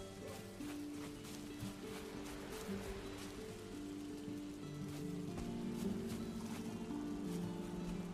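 Steady rain patters in the video game Valheim, a continuous hiss of drops on surfaces with faint background tones beneath, holding at an even moderate level throughout.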